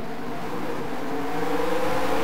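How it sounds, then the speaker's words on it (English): Several race car engines hold a steady, dense revving drone before the start of a 30-lap race at Oran Park in a racing game, loud and continuous. "The engine's rev, ready to go."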